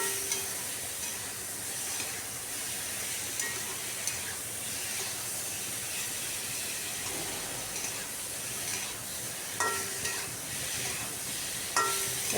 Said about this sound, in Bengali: এবার মশলার সাথে ঝিঙ্গাটাকে খুব ভালো করে কষিয়ে নিচ্ছি